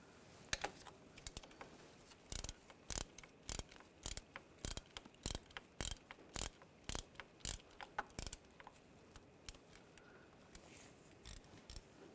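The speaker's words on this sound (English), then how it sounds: "We're going to take this bracket off, use a 13mm socket," A hand ratchet with a 13mm socket loosens a bracket nut on a 2005-2010 Volkswagen Jetta 2.5L, giving a series of sharp, evenly spaced clicks in quick bursts, close and clear against quiet surroundings.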